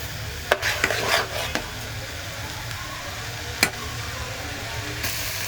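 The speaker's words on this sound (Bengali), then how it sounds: "চালটা ভাজা হয়ে গেছে খুব বেশি ভাজিনি দু তিনবার একটু নাড়াচাড়া দিলাম" Rice frying in a pot for mung dal khichuri, stirred a few times, giving a soft steady sizzle with a handful of sharp spoon scrapes and clinks against the pot, close by.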